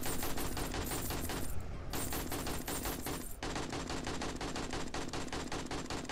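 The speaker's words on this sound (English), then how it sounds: "I'm too busy listening to the gunfire outside." Dense, sustained automatic gunfire crackles outside in the survival video game 7 Days to Die, with rapid continuous bursts broken by a brief pause, loud and unbroken throughout.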